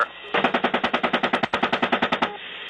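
A helicopter's 30 mm cannon fires a sustained burst in a war zone, roughly twenty loud, evenly spaced booming shots in quick succession, with faint radio chatter around them.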